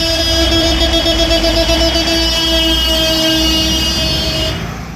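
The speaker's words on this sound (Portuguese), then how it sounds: "eles também fizeram um buzinaço para chamar a atenção" Trucks sounding their horns together in a fuel price protest, a loud, sustained chorus of blaring air horns holding steady for several seconds and then cutting off, close and dominant with no talk.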